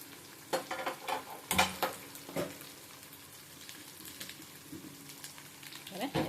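Ginger-garlic paste frying in a pan while fish curry is made, a faint steady sizzle with a few sharp clinks and stirring knocks scattered over it.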